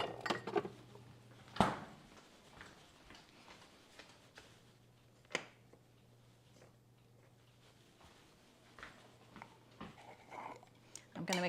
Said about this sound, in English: I'm going to mix my mayonnaise in before I put my cheddar in there.